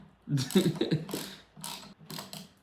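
A ratchet tightens bolts while a carbon LED steering wheel is fitted to a Golf Mk7.5 R, a few short bursts of close, rapid clicking with brief gaps between strokes.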